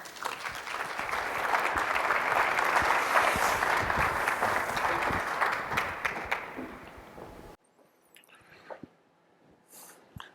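Warm audience applause greets David Rice, an architect honored at a themed entertainment summit, filling a hall with dense sustained clapping for about seven seconds before it cuts off to near silence with a few faint knocks.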